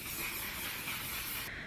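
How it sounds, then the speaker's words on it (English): Hourglass Soft Focus setting spray misting out of its bottle in one continuous close hiss lasting well over a second before cutting off abruptly. "That was the Hourglass Soft Focus Setting Spray"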